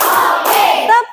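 Class of students clapping hands together in a counted clap routine, a brief dense burst of many overlapping claps, loud and close, lasting about a second.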